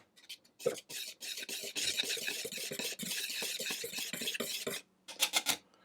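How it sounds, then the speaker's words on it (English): A utensil scrapes and clinks around a bowl, stirring bicarbonate of soda, mixed spice and salt together for Christmas oat biscuits; close, rhythmic rasping strokes run for several seconds, then a short pause and a few final scrapes. "I'm going to mix those around just to get those distributed"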